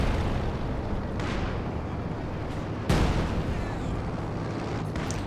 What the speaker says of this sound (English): The Eastern Stuka barrage clears out one anti-tank gun.